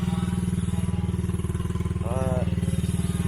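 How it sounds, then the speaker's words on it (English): A pit bike engine held at full throttle, a loud steady buzzing drone close by, with a voice talking over it. "I'm going full throttle on this pit bike."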